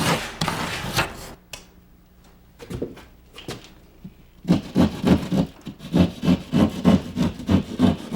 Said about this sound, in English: I trim to the outline with my utility saw, cutting out the damaged area.